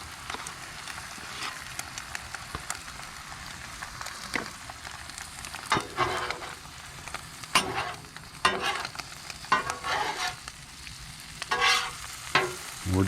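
Eggs sizzle and crackle on a hot Blackstone griddle at a campsite, a continuous close frying hiss with scattered sharper pops and scraping stirs.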